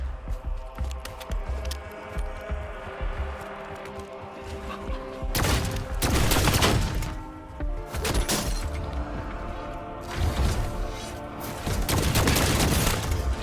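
The Fireworks weapon fires in Call of Duty Black Ops 7 Zombies, with rapid crackling bursts and booms coming in loud waves over a busy game soundtrack.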